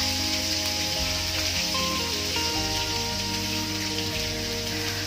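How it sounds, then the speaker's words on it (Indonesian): Blended spice paste hitting hot oil in a pan and sizzling steadily and loudly, a dense hiss that holds for the whole stretch, with a humming background and no talk. "di sini aku udah manasin minyaknya, jadi si bumbu yang dihalusin tadi tinggal dimasukin aja"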